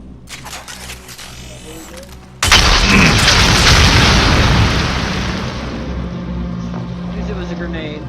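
A grenade goes off in a video game as a sudden loud boom after a quiet stretch, then a long rumbling tail fades slowly.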